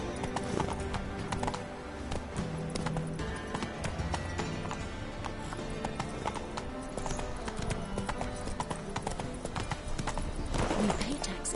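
Horse hooves galloping in The Witcher 3: Wild Hunt, a steady rapid clip-clop that runs throughout and stays close and loud, with a brief whinny and snorting near the end, over busy game ambience.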